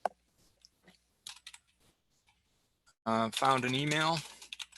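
A computer keyboard tapped while working in Flow Designer software: a few faint, sparse clicks, then someone speaks close up.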